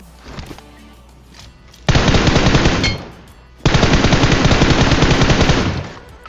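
Sustained bursts of automatic gunfire in a mobile battle royale shooter, coming from behind: two long, loud rapid-fire volleys separated by a short pause, with faint softer game sounds between.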